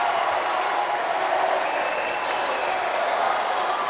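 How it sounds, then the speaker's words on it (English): Distant crowd noise from neighbouring courts at a mixed netball championship, a dense, continuous wash of clapping and cheering that holds at an even level throughout. "There's a lot of cheering from the other courts."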